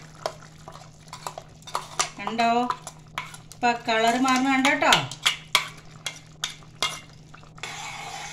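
Ground spice paste for a curry going into a pan and being stirred, with spoon scrapes and clinks against the pan, soft frying, and someone talking over it.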